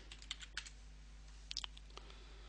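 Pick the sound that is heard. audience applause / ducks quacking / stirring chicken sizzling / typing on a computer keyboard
typing on a computer keyboard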